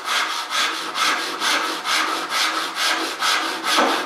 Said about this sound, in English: I can see where I'm sawing and make sure it goes nice and straight.